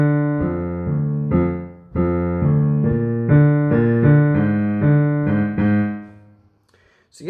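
A riff from a metal album is played solo on piano: a quick series of plucked-sounding chords in an uneven, demented progression, close and clear, fading into silence at the end.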